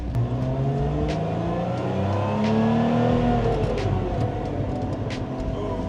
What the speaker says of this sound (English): That was a good exhaust noise.